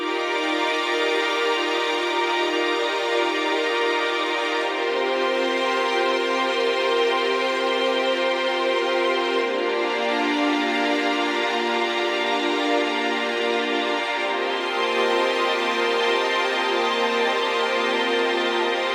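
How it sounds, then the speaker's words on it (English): An Undertale-style instrumental chord progression thickened with many layered harmonies, sustained and fairly quiet, with dense tonal layers shifting chords every few seconds and no voices. "I added a shit ton of harmonies to the main progression, so it sounds like this."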